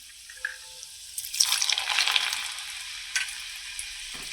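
Whole garlic dropped into hot tempering oil with mustard seeds, cumin and fenugreek, giving a brief close burst of sizzling that swells and then settles into a fainter crackle.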